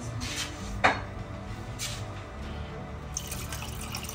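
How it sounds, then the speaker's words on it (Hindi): Water is poured into chicken cooking over low heat in a home kitchen pot, giving a short splash and trickle with a brief sharp clink near the start, over steady kitchen background noise. "थोड़ा सा पानी और डालेंगे"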